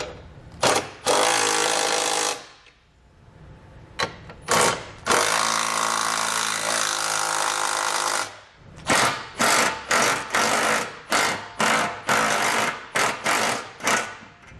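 A power tool drives and snugs down trailer hitch bolts on a 2017 Chrysler Pacifica, sounding as loud, close bursts of whirring, one long run in the middle and a quick series of short pulses toward the end.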